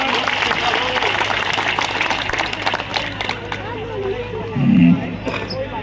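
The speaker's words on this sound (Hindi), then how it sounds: "ताली मारो जोरदार" A crowd claps loudly and steadily at a 108-kund Gayatri mahayagya ceremony in Odisha, with a busy hum of voices underneath and a brief louder swell near the end.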